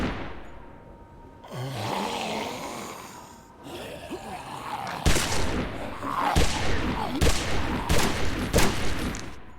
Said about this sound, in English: Pulling out his gun, he begins to fire at the walkers.